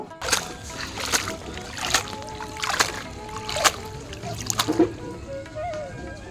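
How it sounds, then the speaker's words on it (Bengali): Water lily stems are washed by hand in water, giving a series of separate splashes and sloshes roughly every second, close and fairly loud, with brief trickles between them. "এখন আমি শাপলাগুলো ধুয়ে নেব"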